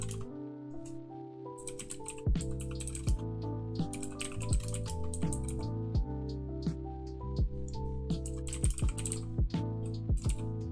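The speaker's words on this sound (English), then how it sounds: "Sorry if you guys can hear all that like mechanical clicking." A mechanical computer keyboard clatters under steady fast typing, dense irregular clicks and sharper key strikes running throughout, close and moderately loud over a low hum.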